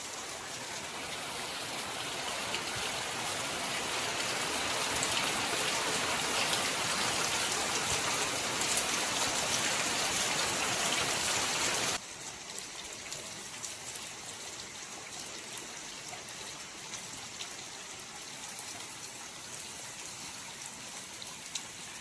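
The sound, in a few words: heavy rain falling in Konkan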